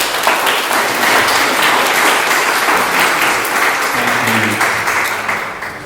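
A crowd at a local candidates forum gives a loud, sustained round of applause for the candidates. The dense clapping holds steady and then begins to taper near the end.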